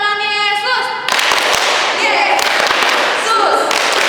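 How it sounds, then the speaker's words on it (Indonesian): Children clapping hands during an online Sunday school service at HKBP Gading Indah, a burst of quick close claps and thumps following a sustained electronic tone, with voices heard over the clapping. "Coba tepuk tangan Yesus."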